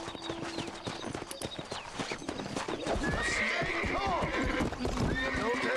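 In the game Red Dead Redemption, a horse being tamed whinnies and snorts over the steady clip-clop of its hooves, growing more agitated and louder partway through, with a voice speaking briefly underneath.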